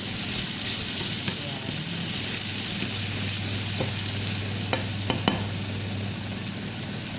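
Onion and tomato sizzle in a pan while cooking fried rice with dried fish, a steady, dense frying hiss running throughout, with a few faint clicks of a utensil.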